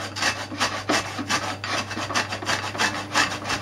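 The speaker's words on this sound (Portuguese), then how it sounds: "Vamos raspar para ter as raspas de limão" Lemon peel being scraped on a grater for zest while making a lemon tart, a close, regular back-and-forth rasping with about eight even strokes and no talking.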